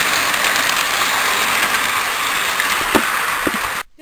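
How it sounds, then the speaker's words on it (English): A toy model train runs along its track in a steady, close, continuous rumble with faint mechanical rattling, then cuts off abruptly near the end. "Then suddenly the new train, Albert Einstein, was pulling Thomas to Germany."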